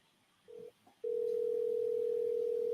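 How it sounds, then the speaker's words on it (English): Steady telephone ringback tone on an AI real estate assistant call, a short beep first and then one long continuous tone, clear and alone. "Can you hear it ringing?"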